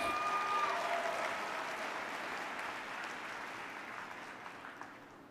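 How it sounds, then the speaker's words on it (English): Audience at a network marketing training event in Tampa applauding together, a dense wash of clapping that holds steady and slowly tapers off over several seconds. "give yourself a big round of applause"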